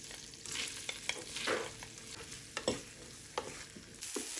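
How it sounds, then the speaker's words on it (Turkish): Onions frying in hot oil in a pan, with a soft sizzle under repeated scraping and stirring strokes and a few sharp clicks of a utensil against the pan. "İndi bura soğanları əlavə edirəm. Yaxşı qovuram."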